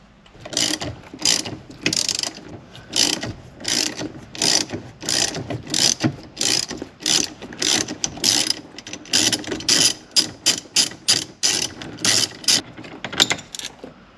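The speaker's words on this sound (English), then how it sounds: "Now we just need to put in our 10 mil hex screw right in here, and then the steering wheel should come right out." Ratchet turning a 10 mm hex screw on a Dodge Challenger steering wheel, a close, loud run of rapid clicking bursts in steady back-and-forth strokes, with no talking.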